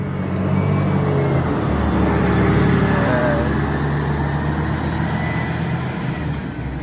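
A Mior Patriot Tronton long-distance coach rolls into the Palembang bus terminal, its engine rumbling close by and steady, with a rising whine partway through and road noise and no talk.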